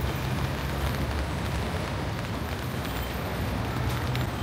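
Rain falls steadily on a street in Osaka, a dense, even hiss with no pauses, heard nearby and without voices.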